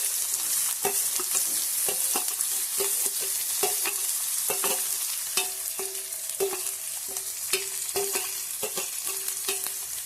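Chopped onions sizzle in hot oil with curry leaves and chilli while cooking valichi bhaji, a steady close frying hiss broken by repeated rhythmic taps and scrapes of a spoon stirring the pan.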